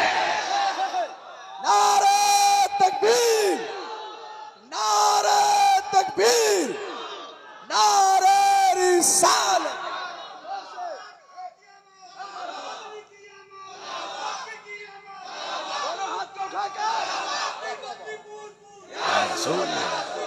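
A large crowd at a stage gathering roars back a chanted slogan in several loud, sustained bursts with brief pauses between them, followed by quieter overlapping calls and shouting.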